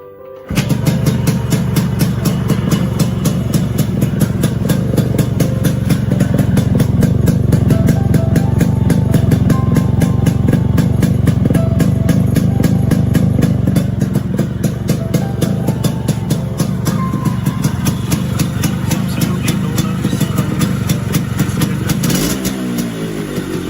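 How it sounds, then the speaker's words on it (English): Rebuilt Yamaha RX 100 two-stroke motorcycle engine running close up, a loud, steady, rattly buzz that holds for about twenty seconds before cutting off near the end. "I'll quickly show you how the engine sounds."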